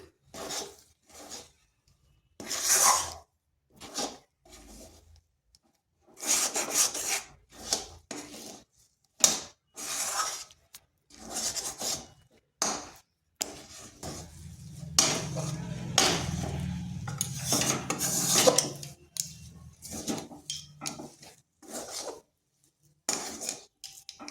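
Spoon scraping and clinking against a bowl while flour and semolina are mixed by hand, in irregular bursts of close tapping and scraping, with a longer rubbing, kneading stretch partway through; no talking.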